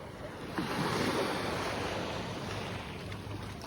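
Steady wash of sea waves on a clean white-sand beach at a campsite in Dipaculao, Aurora, soft and continuous with light wind noise and no talk.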